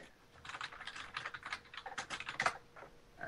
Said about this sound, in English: Whoever's typing.